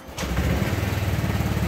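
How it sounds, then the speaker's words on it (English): A TVS Jupiter 125 scooter engine cold-starts after a brief quiet moment, then settles into a loud, steady, slightly rough idle close by with no talking. "It's a silent start, and this engine is making this sound because it's a cold start."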